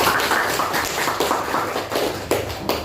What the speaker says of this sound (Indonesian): Mari tepuk tangan untuk tema kita.